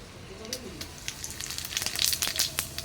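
Bay leaves and dried red chillies hit hot oil in a home kitchen and crackle in sharp bursts that build and thicken toward the end. A faint voice and a soft clink come early.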